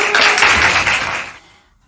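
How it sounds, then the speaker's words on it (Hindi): An audience in a quiz-show setting claps together in a brief burst of applause that fades out after about a second and a half. "तो आप लोग उनका तालियां बजा करके हार्दिक अभिनंदन कीजिए।"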